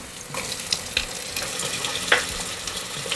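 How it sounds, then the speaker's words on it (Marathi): Onions, potatoes and mixed vegetables frying for masale bhat make a continuous close sizzle, with spoon taps and stirring clatter scattered throughout and no voices. "याच्यासोबतच कांदा भाजायचा आहे आता याच्यामध्ये या बाकीच्या भाज्या घालते मी बटाटे घालते"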